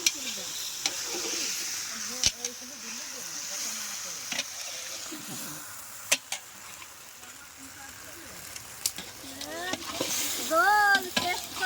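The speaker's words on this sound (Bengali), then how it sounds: "এখন বড় খুন্তি চলে এসছে" Meat stirred with a big spatula in a sizzling pan, steady frying hiss broken by sharp scraping knocks of the spatula against the pan, with a voice talking over it.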